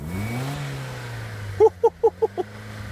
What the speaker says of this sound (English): Give it a rev, Joe.